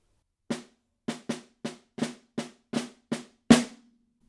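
A snare drum plays a soft measure at piano dynamics with unaccented flams, eight crisp, evenly spaced strokes, the last one slightly louder and ringing briefly, close and alone.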